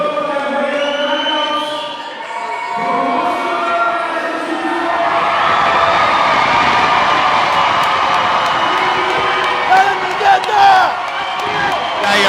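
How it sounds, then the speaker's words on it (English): An arena crowd roars and cheers, a few voices at first swelling into a loud, sustained wall of cheering with whoops near the end. "The crowd is roaring."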